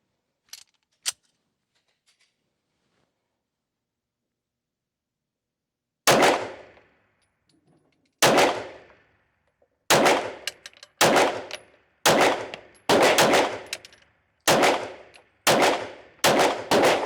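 Arex Alpha 9mm competition pistol firing about ten sharp, loud rounds, first in spaced shots and then in a quicker irregular string, after a few faint clicks and a pause of near silence.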